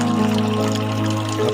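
Steady water running from a tap into a bucket, a continuous loud gushing and trickling fill sound with no voices.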